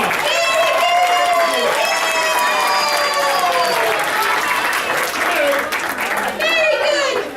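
Loud audience applause after a Vacation Bible School puppet show, with children's voices calling and cheering over the dense clapping, which dips briefly before swelling again.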